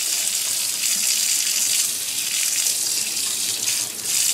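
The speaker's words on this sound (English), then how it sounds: "Here's Tag catching the water" Water runs steadily from a tap into a sink, a continuous bright hiss that stays even and close for the whole stretch with no voices over it.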